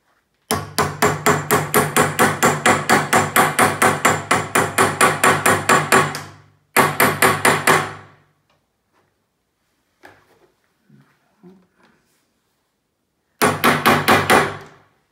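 A hammer strikes eyelet rivets on a sewn tote bag: a fast, loud, even run of metallic blows, a second short burst, near silence with faint handling, then a final quick flurry.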